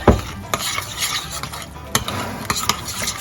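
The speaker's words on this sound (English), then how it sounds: "So we just stir this up" Macaroni salad dressing seasoned with celery seed and olive juice being stirred in a bowl, giving several close scraping, clinking strokes in an uneven rhythm with a soft wet swish between them, and no talking.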